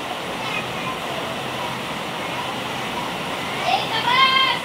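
Water pouring and trickling through a leaking sheet-metal roof during heavy rain, a continuous dense rush close by with a voice and other voices briefly heard near the end.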